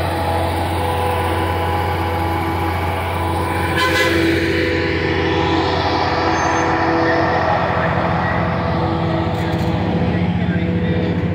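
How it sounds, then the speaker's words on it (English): An electric train running on overhead wire power passes at a heritage transport event on the National Pike, a steady loud rumble with a low drone and broadband roar lasting throughout, swelling slightly partway through, with people talking faintly underneath. "Look, it's an electric train."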